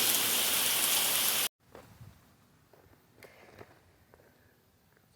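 Heavy rain hisses loudly and steadily for about a second and a half, then cuts off abruptly, leaving faint scattered drips and quiet rustling.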